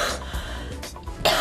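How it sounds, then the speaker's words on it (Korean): A woman coughing as her chest is pressed during a medical examination: a few rough, close coughs and throat clearing in quick succession, with no talking. "거기를 누르시면 제가 기침이 나와요."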